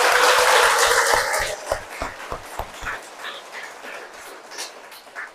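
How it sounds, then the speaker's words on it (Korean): A Catholic parish congregation in a Seoul church gives a short round of applause that fades within a couple of seconds, leaving a quiet room with faint scattered sounds. "이들 힘내라고 박수 한번 쳐주세요"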